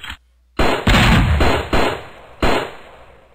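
Pistol gunfire in the video game Raze 2, with about four loud, sharp shots at uneven intervals, each followed by a short decaying tail, close and dominant with no talk.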